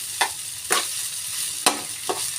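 Cooked rice with egg hits a hot pan for Korean-style fried rice, a continuous close sizzle broken by four sharp scraping stirs.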